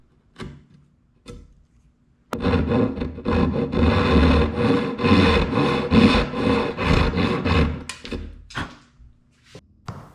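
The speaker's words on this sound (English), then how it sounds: "I deepen that with a knife cut before flicking out a little bit of waste" A knife deepens a marking-gauge line scribed in wood before flicking out small chips of waste for a dovetailed bookcase, giving a sustained close scraping and rasping cut framed by a few quieter taps and scrapes.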